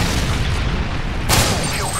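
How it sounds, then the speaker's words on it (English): A Predator missile explosion in Call of Duty: Modern Warfare 3, a loud, close boom erupting sharply over a dense roar of battle noise and then rumbling away. "Friendly Predator missile inbound."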